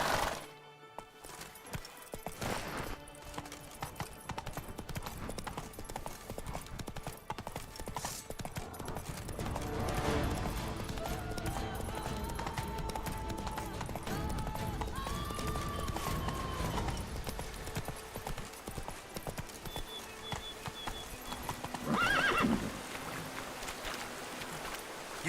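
Hooves of a galloping horse clatter in The Witcher 3, a quick, steady clip-clop running through most of the stretch beneath game music and other effects, with a brief loud burst near the end.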